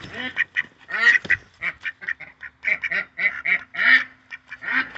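Goose, a domestic gander, honking and squawking in rapid repeated bursts close by, loud and insistent, with no talk over it.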